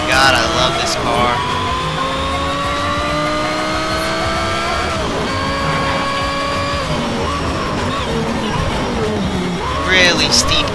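A Porsche Carrera GT in the racing game Need for Speed Shift screams through the gears, its engine note climbing and shifting repeatedly with brief tire squeal, loud and continuous throughout.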